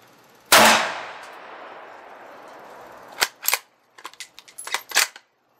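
One loud gunshot cracks, trailed by a long fading echo, and then a swinging steel target rings with a quick run of sharp metallic clangs and pings. The clangs come in uneven bursts as the plate sways.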